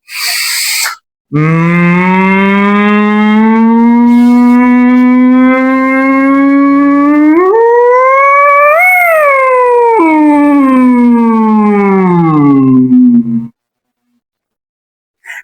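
A single voice imitates an ambulance siren as a vocal warm-up, holding one loud, close tone on one breath for about twelve seconds, rising slowly, peaking, then sliding back down before stopping.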